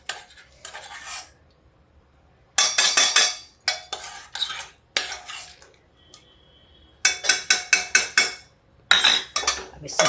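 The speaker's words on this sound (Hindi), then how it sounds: "अब इस सब्जी को भी चला देंगे" Chana dal and pumpkin curry being stirred in a pot, a spoon scraping and clinking against the metal in several bursts of quick strokes, separated by short pauses.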